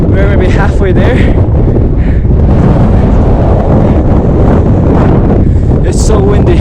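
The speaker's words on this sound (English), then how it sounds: "It's so windy." Strong, constant wind buffets the microphone on a hike up Cotopaxi volcano in Ecuador, a loud steady roar with gusty swells that fills the whole clip, with faint voices now and then beneath it.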